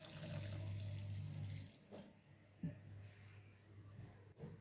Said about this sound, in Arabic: غادي نزيدو عليها الماء